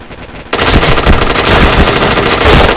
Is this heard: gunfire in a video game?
yes